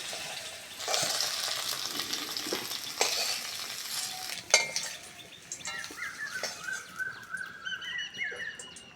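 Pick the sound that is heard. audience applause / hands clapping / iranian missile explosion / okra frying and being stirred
okra frying and being stirred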